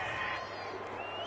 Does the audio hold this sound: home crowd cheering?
yes